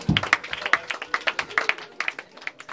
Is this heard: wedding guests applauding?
yes